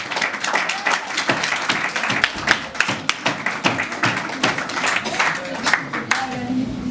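Audience applause after a slam poetry performance, a crowd clapping steadily at close range with sharp individual claps standing out across the whole stretch.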